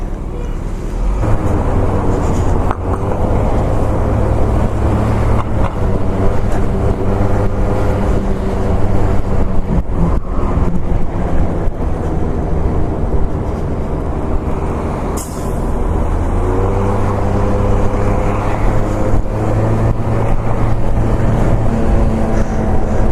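A motor scooter rides through winter city streets in Salt Lake City's Avenues, its engine giving a steady low drone with road and wind noise throughout and no speech.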